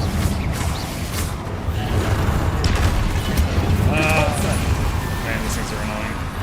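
Spell blasts from Confringo in a Harry Potter video game, heavy booming explosions rumbling continuously over dense game noise, with a voice talking over the top.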